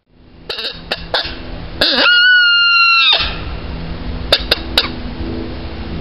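A voice imitates a coyote, giving a few sharp barks and yips before stretching into a wavering howl, then more short yips.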